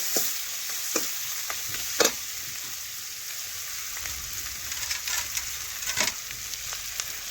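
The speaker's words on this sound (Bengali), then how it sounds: "এখন ভালোভাবে একটু মিশিয়ে নিচ্ছি পেঁয়াজের সাথে এই দেখুন এইভাবে নাড়াচাড়া করে" Onions with salt and turmeric sizzle steadily in a frying pan while a utensil scrapes and stirs them in irregular clinks and scrapes, close by and with no talking.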